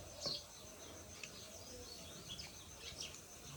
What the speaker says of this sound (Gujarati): એમાં પક્ષીઓનો અવાજ એટલે ભાઈ કાંઈ ઘટે નહીં